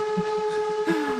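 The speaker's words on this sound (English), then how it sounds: "a train ride off the bridge, off the rails, into the river." A steady, loud train whistle with a sustained tone from a train going off the rails, bridge and river scene, sounding alone without any crash or impact.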